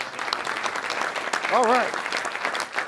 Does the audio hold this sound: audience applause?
yes